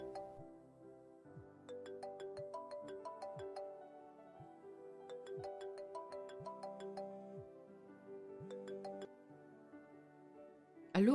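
A phone ringtone for an incoming call plays a repeating electronic melody of bright chiming notes, loud and close, cycling through about three phrases before stopping abruptly.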